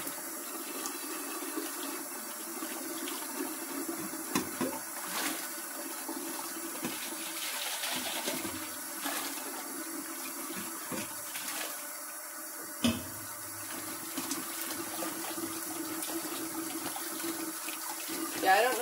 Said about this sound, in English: Now we're going to drain that, and then we're going to rinse everything with hot water.